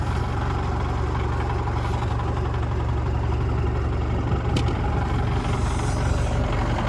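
A farm tractor engine idles at a field, giving a steady, loud, low rumble that holds unchanged throughout.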